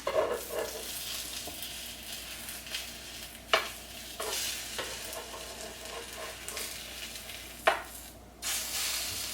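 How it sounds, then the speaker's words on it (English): An egg sizzles in a pan, cooked until well done, with a steady hiss of frying. A few sharp scrapes or taps stand out above the sizzle, and there is no talking. "I like my egg pretty well done, so you're gonna see I'm gonna cook it for a while."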